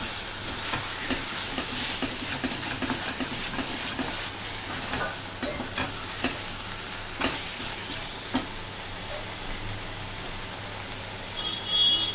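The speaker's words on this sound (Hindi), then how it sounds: "इससे मसाला अच्छा भी भून जाता है।" Masala for a jackfruit curry frying in a pan, a steady close sizzle and hiss with occasional stirring scrapes, loud and continuous with no talk.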